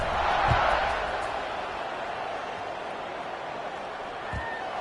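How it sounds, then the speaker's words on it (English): A football stadium crowd buzzing after a score, a broad, steady roar of many voices at a distance, swelling slightly at first and then holding level, with a couple of dull thumps. "this crowd is buzzing after that last score"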